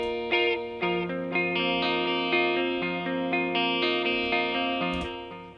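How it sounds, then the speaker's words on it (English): Clean electric guitar tone from the Overloud TH-U amp simulator, played as a sequence of sustained chords and single notes with a subtle touch of delay and reverb, each strum ringing on smoothly into the next. "Just a subtle touch of delay, of reverb"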